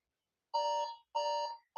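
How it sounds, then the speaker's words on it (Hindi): A quiz countdown timer alarm sounding in clean electronic pulses, two full beeping bursts of about half a second each with a third just starting, loud and alone against silence. "और ये आपका 10 सेकंड का टाइमर शुरू हो गया है"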